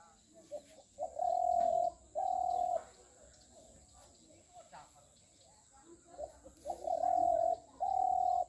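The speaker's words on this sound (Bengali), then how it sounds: "ঘুঘু পাখির ডাক, খুব মিষ্টি" A dove (ghughu) coos from nearby in a rural village among onion, okra and lentil fields, giving two pairs of loud, mellow, drawn-out calls separated by a quiet pause.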